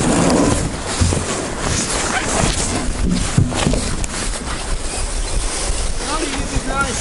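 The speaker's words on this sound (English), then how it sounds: "Wind!" Strong wind blows during a river canoe trip, a loud, steady roar of buffeting gusts across the microphone that drowns out most other sound throughout.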